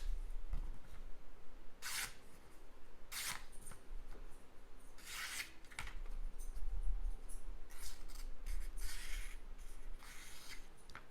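A Tops Bull Trout fixed-blade knife with a toothy edge slices through a piece of paper, giving about half a dozen crisp, rasping cuts spaced a second or two apart, close and fairly loud.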